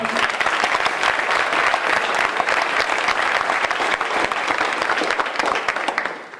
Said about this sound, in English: help me give a big round of applause for the 2018 inductees into the Sports Hall of Honor